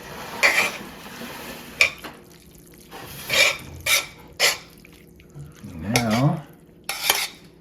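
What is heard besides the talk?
mixing pasta with black pepper and kosher salt in pan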